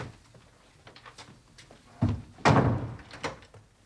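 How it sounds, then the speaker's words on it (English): A door in a Victorian-era Sherlock Holmes drama is shut, with a couple of solid thuds and a bump after soft shuffling, fairly quiet and close with no talk. "Now, go on and shut the door."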